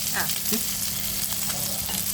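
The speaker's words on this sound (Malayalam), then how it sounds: "ആവശ്യമുള്ള ഗ്രേവി നമുക്ക് ചേർക്കാം" Gravy is poured into a pan of frying prawn mixture for a prawn kizhi parotta dish, bringing a steady, loud, close sizzle with light stirring scrapes and no pause.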